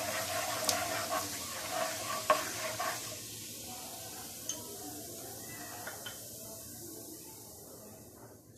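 Cumin seeds frying in hot oil make a soft, faint sizzle with scattered small pops and ticks, busier at first and then thinning to a quiet hiss.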